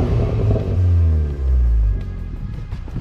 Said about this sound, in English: Wow, it's a lot more poppy in the exhaust too.